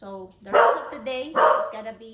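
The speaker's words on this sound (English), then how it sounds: "that's my dog saying hi to whoever is coming home" A pet dog barks at home in two loud bursts under a person's talking, with some whining between the barks.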